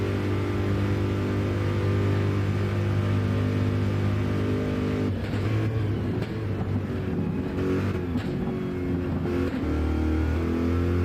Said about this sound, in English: I'm actually a bit surprised to see Evo revving the Corvette that high.